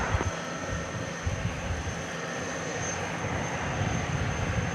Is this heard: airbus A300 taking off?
yes